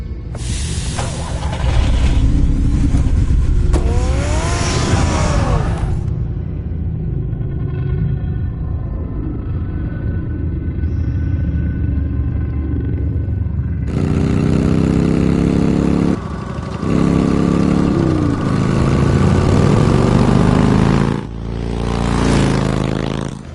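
Batman's car in Telltale's Batman video game, a deep engine rumble and idle with louder bursts of roaring, broken by a quieter stretch in the middle.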